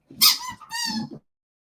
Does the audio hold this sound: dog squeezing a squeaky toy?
yes